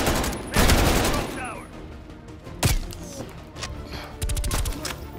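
Rapid gunfire and bursts of shots in Call of Duty: Black Ops Cold War campaign, loud and close, with repeated sharp cracks and thuds over a dense game soundscape.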